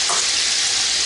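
Cloves, black pepper and black cardamom crackle in hot oil as a loud, dense, continuous sizzle heard up close, with no talking.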